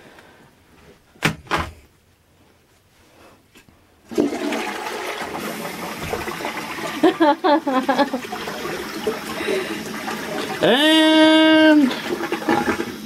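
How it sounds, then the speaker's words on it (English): A toilet flushes with a Havit gaming keyboard dropped in the bowl, a rushing gurgle of water after a couple of sharp knocks and door sounds, ending in a rising refill whine, with a brief voice at the start. "I just try to flush the keyboard down the toilet"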